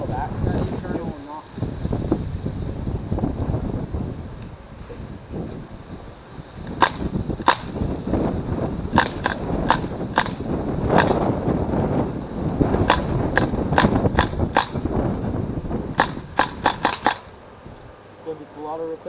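A blowback airsoft gun fitted with a red dot sight fires outdoors in clusters of sharp snapping shots, some single and some in quick runs, over wind and background rumble.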